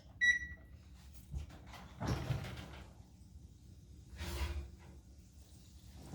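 An oven door clicks open with a dull thump as a baked potato casserole is taken out, preceded by a short beep and followed by a second soft clunk in a quiet kitchen.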